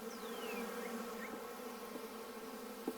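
Honey bees buzz steadily around an open hive during an inspection, a dense, continuous drone close by with a few individual bees flying past, no talking.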